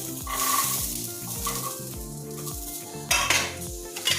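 Dry peas rattle and scrape in a pan with metal clinks and stirring, a rhythmic series of clatters, with a louder clash near the end.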